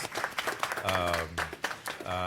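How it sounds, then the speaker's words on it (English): Applause from a general session audience honouring a colleague who just defended his PhD dissertation, a brief patter of clapping running beneath a man's continuing speech. "give him a round of applause"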